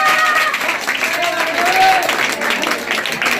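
Audience applause at a general-knowledge competition prize event: a short burst of lively clapping with voices and whistle-like cheers mixed in.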